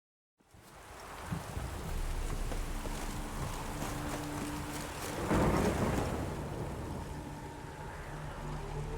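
Rain and thunder in The Witcher 3 game world, a steady downpour that fades in and then holds, with a deep rolling thunder swell midway, loud and enveloping.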